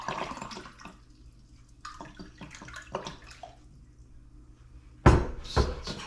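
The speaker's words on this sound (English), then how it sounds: "and I'll put in 335 grams of warm water" Warm water poured from a tap into a glass on a kitchen scale, a few short gurgling runs then a louder, fuller stream near the end, close by.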